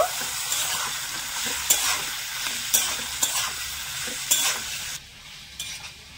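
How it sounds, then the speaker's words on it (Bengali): Cauliflower pieces with turmeric and half a tablespoon of salt are stirred and fried in a pan. A steady close sizzle runs under repeated scraping spatula strokes about once a second, then quiets near the end. "ফুলকপিটা নেড়ে ছেড়ে একটু ভেজে নেব।"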